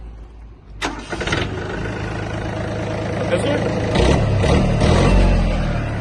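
A Japanese Yanmar mini tractor with a rotary tiller attachment cranks and fires up, its small engine catching after a short starter whir and settling into a steady, close idle while someone briefly speaks.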